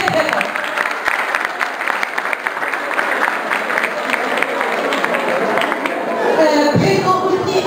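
A school audience at an International Women's Day event claps loudly and steadily, a dense crowd applause lasting several seconds before tapering off near the end.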